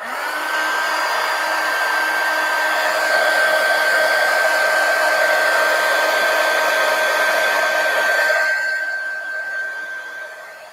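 A hair dryer blows on an art journal page, a loud, close, steady whine with a constant tone that runs for about eight seconds before winding down and fading.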